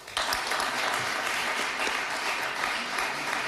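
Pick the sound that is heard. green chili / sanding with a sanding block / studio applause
studio applause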